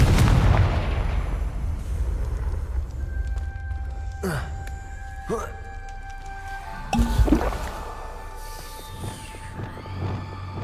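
A Confringo spell is cast in Hogwarts Legacy, setting off a burst of fiery blasts: a loud opening boom, then sharp whooshing impacts, ringing magical tones and a second heavy explosion trailing into crackles.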